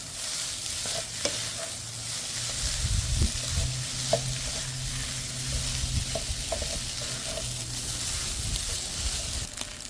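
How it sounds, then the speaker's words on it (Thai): Tuna fried rice with mixed vegetables sizzles steadily in a pan while being stir-fried, with a constant close frying hiss and occasional soft scrapes and taps of the spatula. "เราก็ผัดมาได้ครึ่งทางแล้ว"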